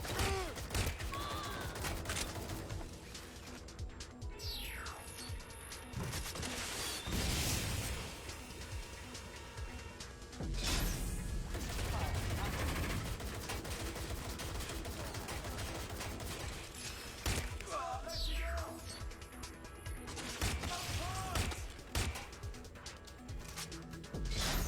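Video game gunfire rattles in dense, overlapping bursts and single shots across the whole stretch, loud and continuous, with explosions and mechanical clatter mixed in and occasional voices under the shooting.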